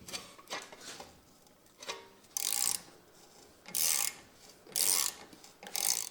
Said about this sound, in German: Als erstes lösen wir die Fixierschraube von der Bremsscheibe mit einem 6er Imbus.